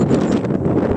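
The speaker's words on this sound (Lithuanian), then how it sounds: "Šiaurus vėjas" Strong north wind blowing on the Palanga seaside, buffeting the microphone with a steady, loud low roar and rustle that fills the whole second without pause.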